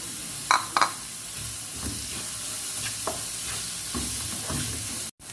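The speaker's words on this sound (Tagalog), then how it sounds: "we put now the hot dog" Hot dog pieces sizzle steadily in a pan of mixed fried rice being stir-fried, a continuous frying hiss broken by several spatula scrapes and stirs, close and clear, with no talking.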